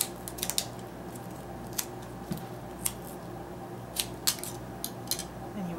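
Scissors snip double-stick mounting tape for paper craft, a series of sharp, close clicks at irregular intervals over a low steady background hum.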